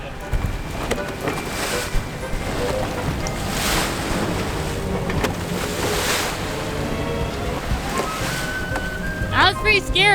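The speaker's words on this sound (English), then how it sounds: "Those breaking waves, they don't look very big, but when you're right up close to them there." Breaking waves surge and crash close by a sailboat near shoals between Shelburne and West Head, loud rushing swells over steady wind and water noise, with a few brief bird-like chirps at the end.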